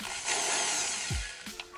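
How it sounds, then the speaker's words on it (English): An old-school power drill with a small bit bores a pilot hole during an aux adapter install in a Lexus IS300, giving one close, loud whirring burst of about a second that then stops. "I'm gonna drill a pilot hole with a small bit first, and then after that, we'll drill a bigger hole."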